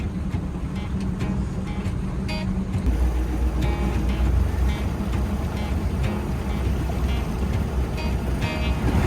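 A small boat engine churns low and steady as the vessel moves off slowly, with water sloshing around it and no one talking.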